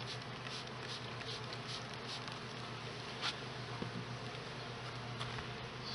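Honeybees from an opened hive make a steady low buzzing drone throughout, with occasional light taps and rustles close by.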